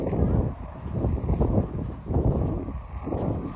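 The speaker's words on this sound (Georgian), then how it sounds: "ქარია" Blustery wind buffets an outdoor microphone on a sunny day, a continuous low rumble that surges and dips in gusts for the whole stretch, with no clear speech over it.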